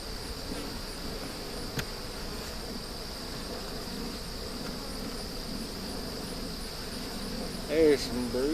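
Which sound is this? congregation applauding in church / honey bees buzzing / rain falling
honey bees buzzing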